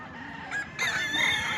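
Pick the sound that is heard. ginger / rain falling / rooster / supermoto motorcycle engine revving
rooster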